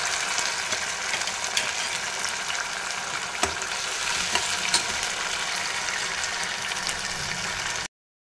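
White pumpkin halwa cooking in ghee and oil, giving a dense continuous sizzle and bubbling with occasional stirring scrapes, loud and close, cutting off abruptly near the end.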